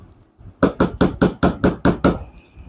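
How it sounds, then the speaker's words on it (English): Eight sharp, evenly spaced hammer blows on a 1/16 punch drive an extractor pin out of a CZ TSO rifle, loud and close with no talking. "Got my hammer."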